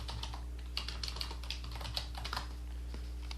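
Quick bursts of keystrokes on a computer keyboard as a folder name is typed, close and fairly quiet over a low steady hum, with no talking.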